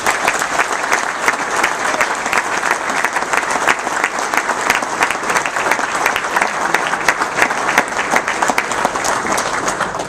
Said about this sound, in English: would you please join me in a warm round of applause